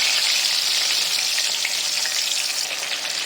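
Fish coated in turmeric and salt hitting hot oil in a wok, a loud, dense, close hiss of frying that holds steady throughout without speech.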